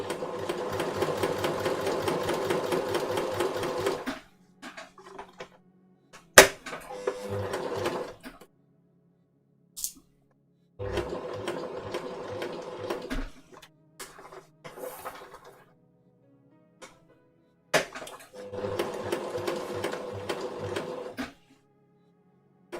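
A sewing machine stitching a shirt placket, running in several separate bursts of rapid mechanical whirring with quiet gaps and occasional clicks between them, close and moderate in level.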